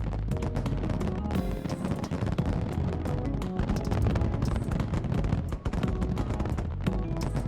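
Dense, continuous crackling and popping bursts from a fireworks display in the video game Aether Gazer, layered over music and filling the whole stretch with rapid, loud overlapping blasts.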